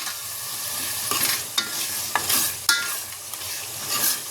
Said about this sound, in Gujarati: ટામેટાની પેસ્ટ નાખવાની, પછી મિક્સ કરી દેવાની